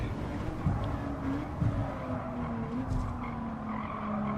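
A race car in Gran Turismo 7 brakes hard into a corner on the WTC 600 Tokyo East circuit, its tires squealing in a long, steady skid over the engine drone.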